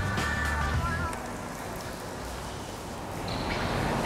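Artificial rain falls steadily on an indoor studio film set, a dense even patter with faint background noise and hints of voices nearby.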